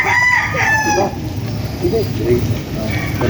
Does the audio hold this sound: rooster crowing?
yes